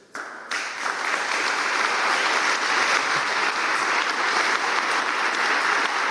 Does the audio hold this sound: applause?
yes